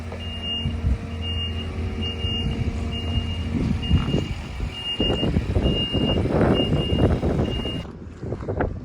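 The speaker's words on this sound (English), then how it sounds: "Dad's just drawn that out with the forklift and we're going to back it in there in front of the straw" A farm forklift reverses with a steady series of evenly spaced high backup beeps over its rumbling engine, while a heavier mechanical rumble swells in the second half, all outdoors and fairly close.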